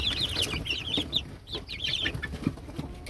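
Naked neck chickens cluck and chatter in a busy run of short, high calls, fairly close and continuous, with low background rustle and no talking.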